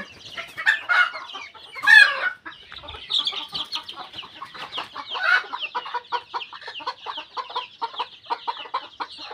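Chickens on a small poultry farm cluck in quick, repeated bursts, close and fairly loud, with one sharper squawk early on and a steady stream of clucking afterward.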